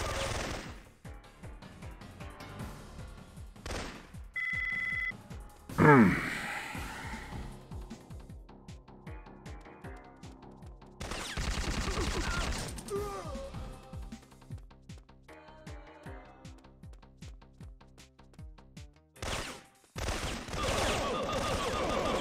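Gunfire from the Syphon Filter video game played on hard mode: repeated bursts of shots and rapid automatic fire, arriving in loud clusters separated by quieter gaps, with no talking.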